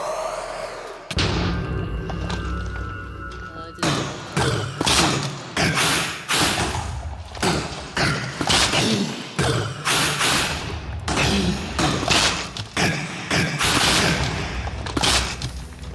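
Repeated loud booms and heavy thuds from a Wither boss fight in Minecraft, a dense rapid barrage of explosions and impacts going on almost continuously.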